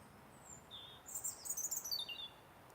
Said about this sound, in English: Little Robin's singing for me.